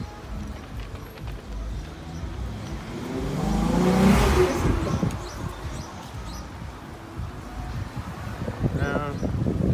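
A car passes along a city street, its engine and tire noise rising to a loud peak near the middle and then fading, over steady outdoor traffic ambience.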